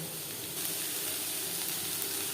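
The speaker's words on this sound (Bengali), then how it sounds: "চারটে পেঁয়াজ আমি কুচি করে অ্যাড করলাম" Chopped onions frying in mutton fat, a steady hissing sizzle that grows slightly louder partway through and holds evenly.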